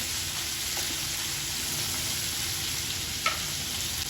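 Onion, tomato and dried red chilies sautéing in a pan for a spicy Andhra-style chutney, a steady close sizzle and hiss with a faint stir or tap near the end.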